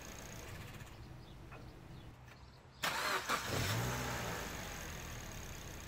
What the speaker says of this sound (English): The engine is shaking quite